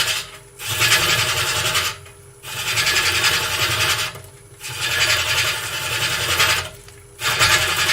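A wood lathe turns at about 700 RPM while a tool works the spinning wood, giving four loud rasping, scraping passes with short quieter pauses between them, close and steady.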